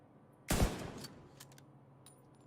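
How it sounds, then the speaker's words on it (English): A loud single sniper rifle shot rings out in the video game The Division 2, with a sharp blast and a short decaying tail, followed by fainter distant gunfire cracks. "Bring out the old sniper rifle."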